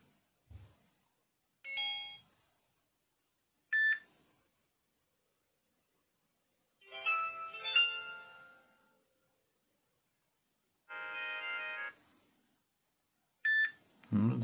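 L20 smartwatch notification tones, a series of short electronic chimes and beep melodies separated by silent gaps, each played alone and fairly clear, with a brief voice near the end.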